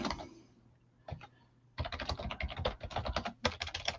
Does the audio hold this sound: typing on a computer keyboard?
yes